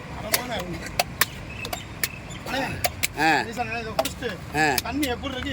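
A tender green coconut being hacked open with a blade, several sharp chopping strikes landing irregularly while people talk close by throughout.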